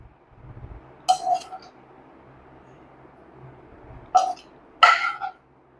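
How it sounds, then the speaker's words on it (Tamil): Utensils clink against a bowl as gobi manchurian is transferred in, with three short metallic clinks spaced apart over quiet background. "இப்போ காலிஃப்ளவர் மஞ்சூரியனை ஒரு பவுலுக்கு மாற்றிக்கலாம்."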